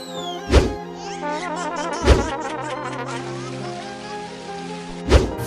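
Water splashes down like rain in a playful household scene, a dense patter of droplets on surfaces punctuated by three heavy thuds spread across the clip, loud and close.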